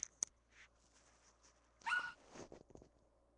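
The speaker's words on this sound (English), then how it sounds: "Just a quick little puppy yip." A puppy gives a few quick, faint yips and whimpers, short isolated bursts separated by near silence.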